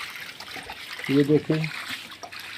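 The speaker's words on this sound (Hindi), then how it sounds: "अभी निकाल ने मुकम्मल टंकी भर दी है, ये ओवरफ्लो हो रही है।" Water spills over the top of a full rooftop water tank in a house plumbing setup, a soft, steady trickle heard nearby under a man's brief speech.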